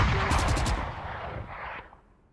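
Rapid bursts of gunfire from a shooting video game, dense and loud at first, then thinning to a fading tail, with no talk over it.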